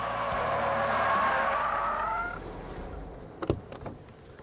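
Car tyres squeal loudly and skid as a car spins out on a tightening corner of a greasy roundabout, the screech fading after about two seconds and followed by a few thumps and knocks.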